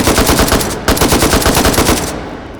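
AK-style rifle in the H3VR virtual reality shooter firing rapid automatic bursts, loud and close, with a brief pause before the final burst trails off.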